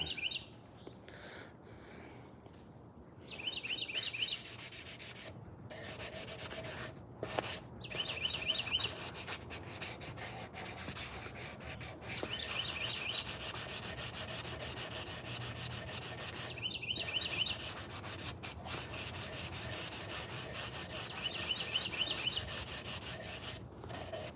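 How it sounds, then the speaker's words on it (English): Hand-sanding a carved wooden spoon handle, a steady close rubbing and rasping that continues with brief pauses, while birds chirp faintly in the background. "We're getting not too far away from having this handle sanded up pretty good."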